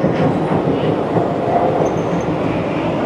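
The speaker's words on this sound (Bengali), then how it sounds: "আমাদের ট্রেন জাস্ট স্টেশনে ঢুকলো, হাওড়া লালকুয়া এক্সপ্রেস" The Howrah–Lalkuan Express pulls into a station with a steady, loud rumble of rolling wagons and a faint high squeal of wheels, no voices heard.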